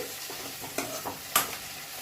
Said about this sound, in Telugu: వేగుతున్నాయి మధ్య మధ్యలో ఇలాగ కలుపుతూ ఉండండి